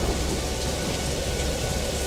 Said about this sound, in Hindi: मूसलाधार बारिश और तेज आंधी।